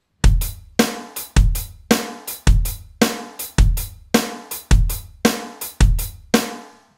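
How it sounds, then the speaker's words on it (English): Drum kit groove alternating bass drum and snare in a steady beat, about two hits per second, loud and close with ringing decay after each stroke. "just playing the bass drum on beat 1 and the snare drum on beat 2"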